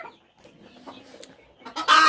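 Native deshi chickens on a poultry farm give a few soft, scattered clucks, then a sudden loud, close squawking call at the end.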